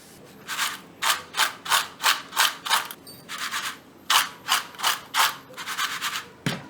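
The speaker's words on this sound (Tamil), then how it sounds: "இப்போ நான் பிஸ்கட்டை ஒரு பிளேட்டில் மாற்றிக்கிறேன்." Crisp wheat-flour biscuits shifted onto a plate, a close run of dry, rattling scrapes in quick rhythmic bursts with a short pause midway and a sharp knock at the end.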